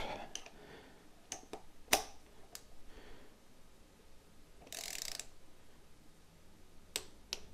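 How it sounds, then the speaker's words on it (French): A torque wrench tightens a spark plug on a motorcycle engine, giving a few sharp metallic clicks and ratchet ticks spread out over faint background noise, with a short hiss in the middle. "Un petit coup de clé dynamométrique."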